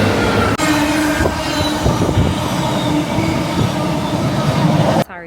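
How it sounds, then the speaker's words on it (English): A noisy train rolls past nearby, a loud sustained rumble with rattling cars, squealing wheels and clattering track joints for several seconds before cutting off abruptly. "what a noisy train that was"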